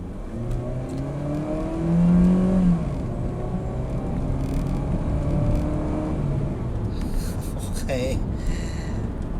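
Mitsubishi Xpander with a 4-speed transmission pulling away from a slow crawl on a rough road, a steady moderate engine hum and cabin rumble with someone speaking over it.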